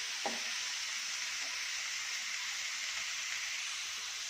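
Chopped vegetables for veg momo filling sautéing in a pan, an even close hiss of sizzling with a couple of faint stirring scrapes near the start and no voices.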